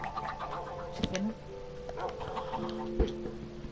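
Chickens in a block-building video game give a few short, faint clucks over a busy background of other game sounds.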